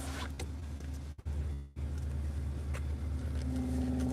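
A loud car with a loud muffler rumbles past on a cold day, a steady low roar that briefly cuts out and then swells back, close and sustained throughout.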